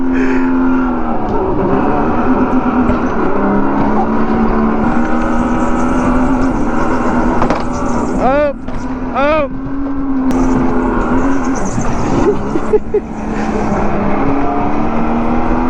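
A supercharged go-kart engine drones steadily on a twisty karting track, loud and close with a constant buzzing tone, briefly dipping and revving in two sharp swoops midway; a voice talks over it.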